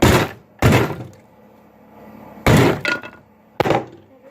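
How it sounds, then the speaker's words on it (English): A hammer strikes a stuck, tight vise, four sharp heavy metallic blows in two pairs with ringing decay between them and no talking over them. "that's why we use the hammer"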